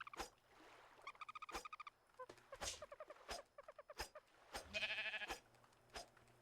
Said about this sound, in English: We're just gonna shear up the sheep here a little bit.